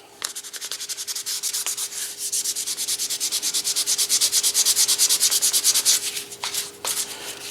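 Sandpaper worked rapidly back and forth over high spots of oil finish on the wooden stock of a Remington 31 12-gauge shotgun, a steady close rasping rhythm of many quick strokes.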